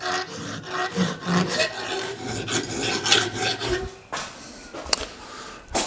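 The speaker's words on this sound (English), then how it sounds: "Smoothing out the welds with a file." Hand file rasping back and forth over metal welds on a custom tail light mounting for a 1951 Chevy rat truck build, a steady series of close, gritty strokes with a brief pause near the end.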